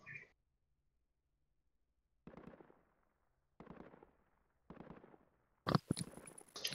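Gunfire rings out in a military shooter game as a few separate muffled bursts, spaced apart with silence between them, ending in a louder, sharper volley.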